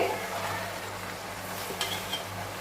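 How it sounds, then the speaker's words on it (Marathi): Spinach for a spinach chutney is stirred in a pan, giving a steady soft sizzle and faint scraping for under three seconds, with no talking. "आता आपण आपली पालक घालूया"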